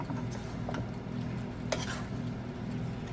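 Cooked food being folded in a pan with a utensil, a soft steady scraping and stirring texture over a faint sizzle, with a few light clinks against the pan.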